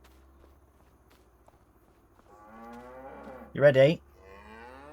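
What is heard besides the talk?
cows mooing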